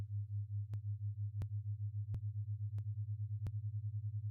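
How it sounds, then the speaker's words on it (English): Low sine tones beat against each other, producing a steady hum that swells and fades a few times per second, with the pulsing gradually quickening and occasional faint clicks. "This is beating at 2 beats per second, 3 beats per second, 4,"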